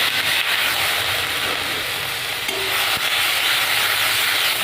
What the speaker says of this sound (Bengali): পেঁয়াজটা আমি একটু ভাজা ভাজা করে নেব।